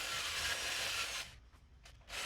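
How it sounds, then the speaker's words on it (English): A thin crimped wire wheel scrubs an aluminum Mustang brake caliper with a harsh, broadband rushing hiss. It runs steadily and then drops away, followed by a few short bursts of scrubbing up close. "I'm using a thin, crimped wire wheel"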